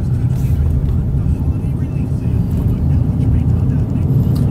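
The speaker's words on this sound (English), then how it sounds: "we're going to take this for a test drive and see how she drives" 2015 Hyundai Santa Fe on a test drive, a steady low engine and road rumble from inside the cabin, even and moderately loud throughout.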